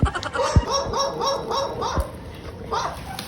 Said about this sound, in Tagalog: porkit iko'y aso ng may-ari, iko'y magtatahol-tahol dyan, ha?